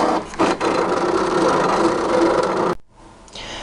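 A Cricut cutting machine cuts a paper flower, a close, steady whirring and scraping rasp that runs continuously, then drops to a quieter hum after a sharp break.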